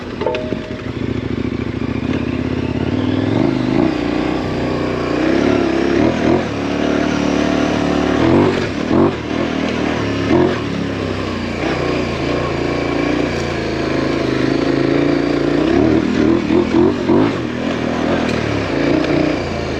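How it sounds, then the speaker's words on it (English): A KTM 1090 Adventure motorcycle is ridden with a noisy chain, its loud engine rising and falling with the revs over a constant mechanical clatter, close and continuous for the whole stretch. "Sure noisy chain on these things."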